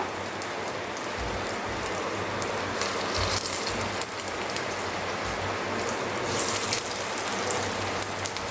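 Corn rava appe batter balls sizzle steadily in hot oil in an appe pan, a close, continuous crackling hiss with soft spattering pops throughout and no talking.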